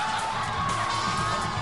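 Dense, steady crowd cheering and shouting fills a packed stadium at a high school football game in Wagoner, a continuous roar of whoops and yells from a large overflow crowd.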